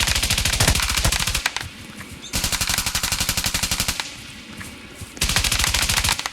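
A machine gun fires loud, close, sustained bursts of rapid rounds, about three long strings separated by brief pauses, with no talking over it.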